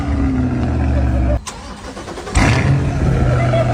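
An imported Corvette C8 starts by remote, with idle rumble cutting out, a short pause, then a sharp crank and a loud bark into a throaty idle, as voices talk nearby.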